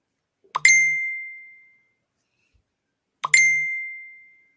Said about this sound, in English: My phone. That's a fancy ring.